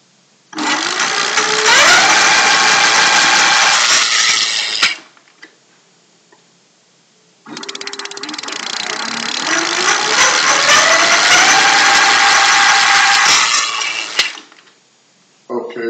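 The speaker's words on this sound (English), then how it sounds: "Okay, so the motor is spinning up pretty good." A BMC camera shutter motor fitted with a metal gear whirs up twice. Each run lasts several seconds and rises in pitch as it spins up, then cuts off. The sound is loud, close and mechanical.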